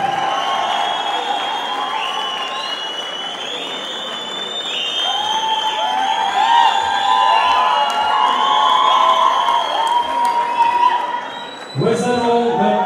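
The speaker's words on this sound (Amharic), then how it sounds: "አጨብጭቡ በደንብ" A crowd claps and cheers at a singer's album release event, where his family staged a surprise. The dense, steady applause is mixed with shouts and voices, then dips briefly near the end as a voice cuts in.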